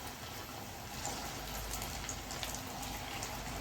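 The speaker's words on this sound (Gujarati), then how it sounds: "અવાજ પણ એકદમ મસ્ત આવે છે કડકડ" Semolina medu vada deep frying in oil make a loud, continuous bubbling crackle up close, steady throughout with fine popping like rain on a surface.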